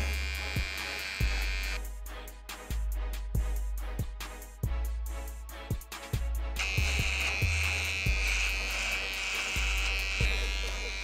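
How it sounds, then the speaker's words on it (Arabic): A Chinese Dingling electric hair clipper buzzes steadily and close while trimming hair, its hum broken by regular short clicks and shifts in pitch as it moves through the hair. "هلا بنجيب ماكينة دينجلينج الصينية"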